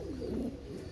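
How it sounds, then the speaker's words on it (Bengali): Pakistani pigeons give a short, low, soft coo up close, a single brief murmuring call. "একজোড়া পাকিস্তানি 35 কবুতর রানিং পেয়ার"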